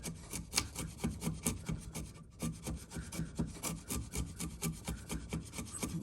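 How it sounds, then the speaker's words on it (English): A chisel pressed hard into wood pares away material for a bridle joint, making quick repeated rasping scrapes in a steady rhythm, close and fairly quiet. "Chisel to remove most of the material, and I'm going to flip the chisel around the other way, pressing down hard on the blade"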